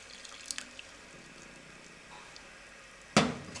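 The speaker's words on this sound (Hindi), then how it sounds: "अब इसमें हम दूध डाल देंगे।" Milk pours into a pot of boiling barley porridge, a short, fairly loud splashing burst that rises suddenly after a stretch of quiet bubbling with a few faint clicks.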